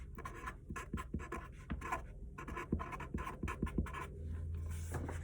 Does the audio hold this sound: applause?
no